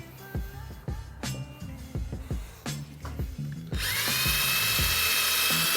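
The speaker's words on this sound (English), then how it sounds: "throw it onto your sanding disc pad, and then you're gonna go over the headlight again" A power drill fitted with an 800 grit sanding disc pad works over a car headlight, starting with scattered rubbing and scraping knocks, then spinning up into a steady, close whine on the lens.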